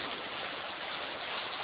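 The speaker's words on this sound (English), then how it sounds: "It is pouring rain out here." Heavy rain pours outside a moving car, a dense, even hiss of water with no breaks, steady and moderately loud throughout with no talking.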